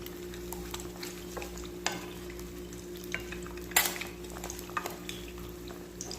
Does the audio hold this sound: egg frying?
yes